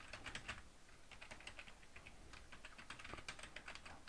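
Rapid, uneven clicks of fingers typing on a computer keyboard, close and fairly quiet, with short bursts of keystrokes and brief pauses throughout.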